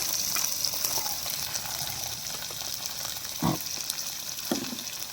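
Green chillies frying in a pan with oil, a steady close sizzle and crackle running throughout, with a couple of brief louder pops and spatters near the end.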